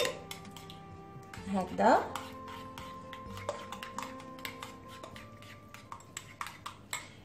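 Savoury pastry filling with grated cheese is mixed in a bowl, with repeated clinks and taps of a utensil against the dish. Someone speaks briefly near the start, and light scraping and tapping continue.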